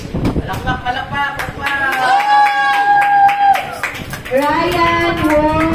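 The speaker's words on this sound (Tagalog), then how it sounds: "Palakpak." Audience clapping at a summer kids camp, steady claps running under children's voices and chatter throughout, with names being called out over the noise.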